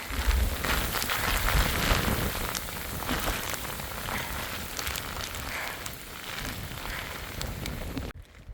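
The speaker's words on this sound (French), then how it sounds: "La pluie arrive." A rain shower falls steadily on a coastal hiking trail in Brittany, giving a dense, even hiss of drops pattering on surfaces close by, with the sound cutting off abruptly at the end.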